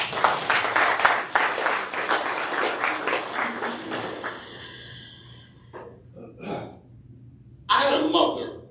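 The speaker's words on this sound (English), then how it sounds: "Would you do me a favor and give the Lord a hand clap of praise," A church congregation claps hands in praise, a dense burst of clapping for about four seconds that quickly fades, followed by scattered murmurs, a few small sounds and a brief voice.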